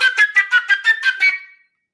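An overblown flute note with a sharp, piercing harmonic edge repeats in about eight quick pulsed articulations, bright and close, then fades out into silence.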